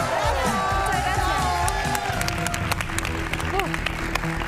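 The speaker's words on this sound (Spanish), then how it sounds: "Un aplauso para Remita." Studio audience on a Chilean family game show applauds and cheers, a dense sustained wash of clapping with whoops and voices mixed in, loud and continuous throughout.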